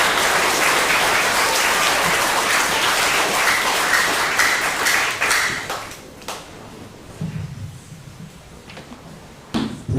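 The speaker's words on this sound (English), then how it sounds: "Please give them a round of applause." Audience applause for adult scout leaders at a Scout Sunday service, loud, steady clapping across the room for about six seconds before tapering into scattered claps and quiet room noise.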